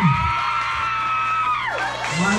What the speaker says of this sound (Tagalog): palakpakan para kay Marian Rivera